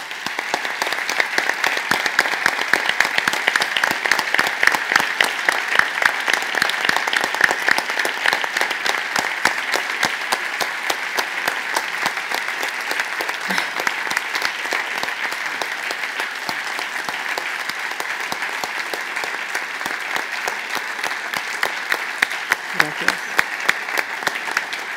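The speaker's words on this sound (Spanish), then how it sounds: "Me van a permitir que les pida un aplauso para esas poetas que no solo nos cedieron sus poemas, sino que hoy nos han regalado su presencia." Sustained audience applause for Basque women poets at a live poetry recital, dense steady clapping filling the hall for the whole stretch without letting up.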